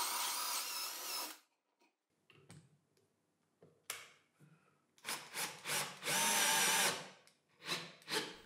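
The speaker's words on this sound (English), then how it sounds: "I switched to a pointed router bit and pre-drilled the position of the tailstock for the lathe mode." A pointed router bit pre-drills a hole in wood on a combined drill press, lathe and router table, giving a loud whining burst, then pauses with faint handling, then several shorter bursts of the spinning bit cutting.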